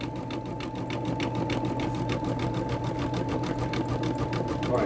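A sewing machine stitching a dog bandana runs continuously up close, a loud, even rapid chatter of the needle with a steady motor hum throughout.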